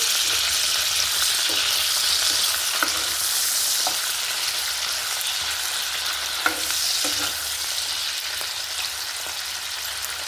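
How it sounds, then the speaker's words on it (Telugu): Dried fish roasting in hot oil for a dried fish, cucumber and tomato curry: a constant close sizzle and bubbling crackle with occasional faint stirring taps, no voices. "ఆయిల్ హీట్ అయ్యాక ఈ నెత్తళ్ళు వేసుకుందామండి ఈ గోల్డెన్ బ్రౌన్ కలర్ వచ్చే వరకు కొంచెం రోస్ట్ చేసుకుందాం"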